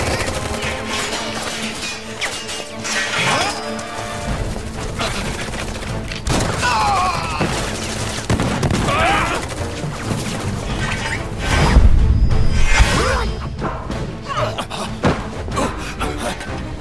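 Rapid gunfire bursts and clattering impacts ring out in a chaotic battle scene from Final Fantasy VII Remake Intergrade, layered with game effects and some shouted voices, dense and loud throughout.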